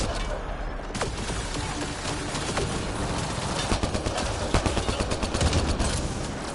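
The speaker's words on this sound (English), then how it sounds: "Just shoot them in the face. Everybody focus the anointed ones." Gunfire rattles through a firefight while enemies are shot in Mass Effect: Andromeda, a dense stream of shots over a busy battle mix, with bursts growing sharper and more rhythmic near the end.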